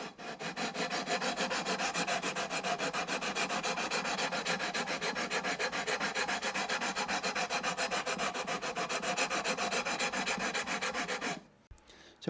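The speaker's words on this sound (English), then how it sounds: "So basically I've got 2 sanding beams." Guitar frets on an Eastcoast MT1 are sanded with a sanding beam, giving a steady, close, continuous rasping rub of sandpaper on metal that runs unbroken for about eleven seconds before stopping abruptly, with no talking.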